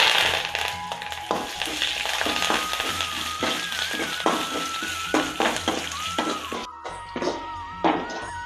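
Dried red chillies and curry leaves sputter with mustard seeds in hot oil for a Kerala onion theeyal, giving quiet, uneven crackles and pops with occasional stirring taps, close by and without talk.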